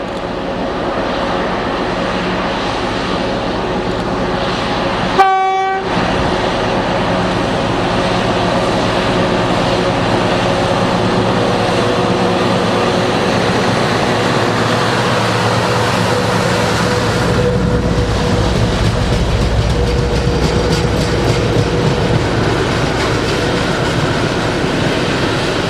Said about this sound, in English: 60073 heads for Lindsay with an oil train at Elford in September 2010.